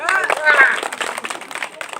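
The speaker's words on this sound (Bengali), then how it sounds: "সকলে একটা করতালি হোক" An audience at a village girls' game contest claps together, a brisk patter of many hands with a voice speaking over it at first.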